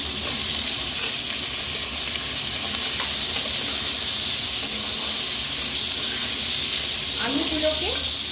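Cut potatoes and onion frying in a pan give off a loud, continuous, close sizzle and hiss, with a few faint stirring scrapes near the end.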